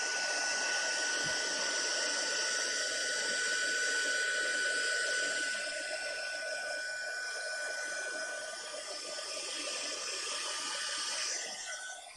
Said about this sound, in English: The heat gun just has to warm up for a little bit, and then it makes everything nice and clear.